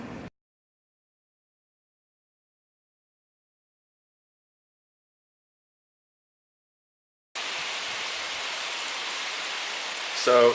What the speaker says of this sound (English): just started raining pretty heavily and hard here